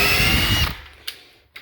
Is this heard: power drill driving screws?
yes